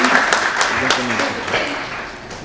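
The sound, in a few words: audience applause at a franchise forum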